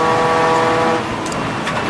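A Roadsports race car, one of the Golf and TT TDI class, passes loudly on the Donington Park GP circuit. Its strong engine tone holds, then drops away as it goes by.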